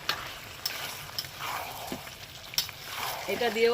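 Chicken with ground garam masala and coriander leaves sizzles while being stirred and sautéed in a pan, soft scraping and frying crackle up close, with a few words spoken briefly.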